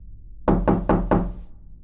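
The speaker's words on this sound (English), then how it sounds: "I get a knock at my door while I'm watching TV" Four firm, evenly spaced knocks strike a door at a house, close and loud, each ringing briefly before the next, then silence.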